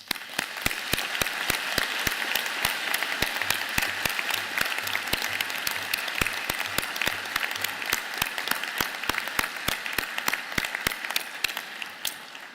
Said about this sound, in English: I would ask you to join me in the platform party in thanking them with a vigorous round of